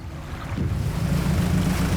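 A small fishing boat undocks in the video game DREDGE, its engine swelling into a steady low drone over the soft wash of water and wind, building and holding at an even level.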